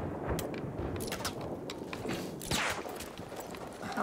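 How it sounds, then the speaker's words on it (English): Battlefield 1 gunfire crackles through a busy battlefield, scattered shots and rattling bursts at a middle distance over a constant rumbling din, with no clear single shot standing out. "Oh, someone's shooting."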